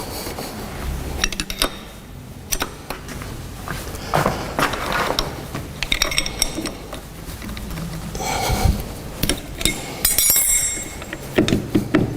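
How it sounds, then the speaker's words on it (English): A swivel bench vise with a graduated angle scale being adjusted, giving scattered metallic clicks, clunks and scraping of moving jaw and swivel parts at close range, uneven in rhythm with brief pauses. "So we can see we can adjust the vise"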